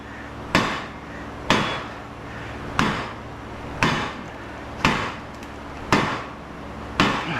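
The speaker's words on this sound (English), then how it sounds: "we'll just hit it with the hammer" Hammer repeatedly striking a massive metal HID light fixture being scrapped for copper and aluminum: seven loud, sharp, evenly spaced clanging blows about a second apart, each ringing briefly, with no talking.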